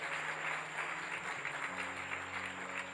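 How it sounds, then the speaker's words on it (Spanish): A church congregation applauds in a dense, steady wash of clapping that stays even throughout, with a low sustained instrumental tone underneath. "Denle una ofrenda de palmas a nuestro Dios."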